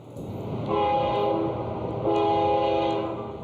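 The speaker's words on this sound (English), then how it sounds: "Seconds from staring down a speeding train." A speeding train on the tracks in Banff National Park sounds two long blasts of its horn over a steady rumble of rolling rail cars, loud and fairly close.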